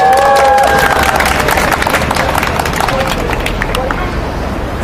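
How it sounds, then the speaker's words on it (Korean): Applause and cheering from a crowd at an outdoor political rally in Seoul, a dense, loud wash of clapping and voices with brief murmured speech over it, tapering slightly toward the end. "큰 박수 부탁드립니다"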